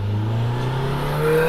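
Turbocharged SR20 engine of a 450 hp Nissan S15 Silvia with a big turbo on a mountain touge run, a steady loud drone whose pitch climbs gradually through the clip, with no talking.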